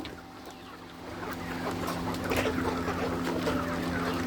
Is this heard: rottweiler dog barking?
no